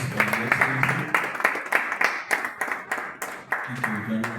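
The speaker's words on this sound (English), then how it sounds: "Let's a round of applause for the Excellency." An audience applauds at a police command event, brisk scattered claps ringing out with talk underneath at the start and end.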